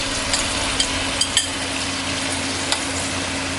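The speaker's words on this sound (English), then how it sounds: "Now I'm going to add in my Roma tomatoes." Roma tomatoes going into a pan of golden garlic frying over medium heat, a steady close sizzle with a few brief scraping clicks of stirring, no voices.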